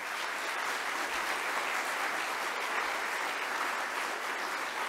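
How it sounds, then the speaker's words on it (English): A church congregation gives a round of applause for a pastor, a steady, even patter of many hands clapping together at moderate distance throughout, with no voices over it. "Let's give him a round of applause"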